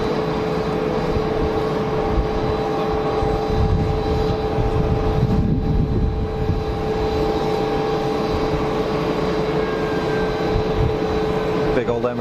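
A big Emirates Boeing 777 airliner at an airport gives a steady, broad engine roar that carries through the whole stretch, joined by a faint tonal whine and a low rumble that swells briefly midway.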